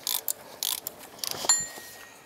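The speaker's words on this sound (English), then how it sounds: "Get yourself a little 3/8 extension or whatever size ratchet you're using" A ratchet with a 10 mm socket on an extension loosening water pump bolts on a 2007-18 Jeep Wrangler: quick bursts of close metallic clicking, then a sharp snap and brief ringing tone as a bolt breaks free.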